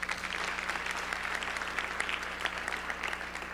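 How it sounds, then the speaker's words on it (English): Conference audience breaks into a round of applause, sustained, even clapping from a hall crowd lasting several seconds with no talk over it. "Let's give Donna a round of applause."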